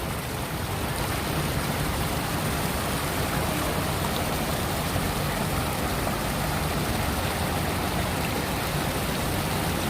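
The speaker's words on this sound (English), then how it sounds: "you can sit right here next to the fountain, and the way the water goes, you will never get wet. You will just enjoy the sound of water." Fountain water on the New York City High Line pours in a steady, full broadband rush, continuous and close with no breaks and no voices.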